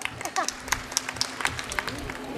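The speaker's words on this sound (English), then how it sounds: "Give them a big round of applause." A school audience claps after a performance at an annual function, scattered claps with a few sharp accents over a low murmur and a faint background voice.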